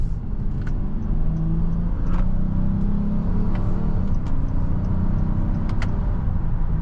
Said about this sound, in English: Smooth acceleration.